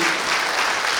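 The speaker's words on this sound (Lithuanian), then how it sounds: "šiltais plojimais" Warm applause from an audience at an award ceremony honouring a traditional music ensemble, a dense steady clapping that stays loud and even throughout without a break.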